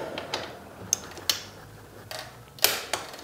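A torque wrench tightens the wheel bolts on a bike with a hub gear wheel, giving sharp ratcheting clicks and ticks in short, irregular bursts, close up and with no voices.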